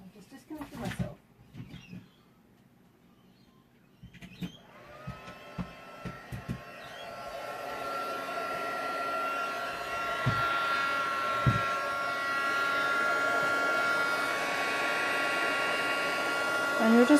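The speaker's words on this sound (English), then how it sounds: "So I'm just going to grab our heat tool." A heat tool melts gold embossing powder on a vintage leaves card. Handling clicks and taps come first, then the tool starts and builds into a steady blowing hum that continues to the end.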